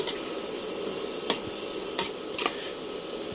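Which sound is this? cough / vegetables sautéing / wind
vegetables sautéing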